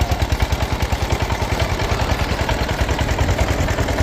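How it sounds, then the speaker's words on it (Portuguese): A sisal decorticating machine's engine runs loud and close, a fast regular chugging pulse with rattling clatter continuing steadily throughout. "Nós agora vamos registrar aqui para vocês que nos assistem e nunca viram o que é o motor de sisal."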